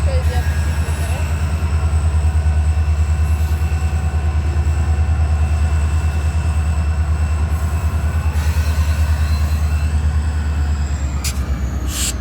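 A Union Pacific locomotive moves through a rail yard, Bowden Yard in Jacksonville, with a loud, steady engine rumble and drone throughout and faint wheel squeal near the end.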